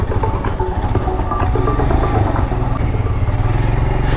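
A Royal Enfield motorcycle ridden on a small dirt jump track at a Scram Jam event, its engine droning loudly and steadily with rough mechanical clatter throughout, close and without talk.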